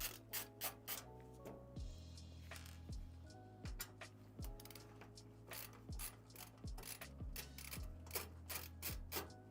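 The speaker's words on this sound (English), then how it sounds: "Mounting that power supply." A power supply is fitted into a gaming PC case at close range, giving a run of quiet clicks, ratchety ticks and metallic taps and scrapes in an irregular rhythm, with no talking.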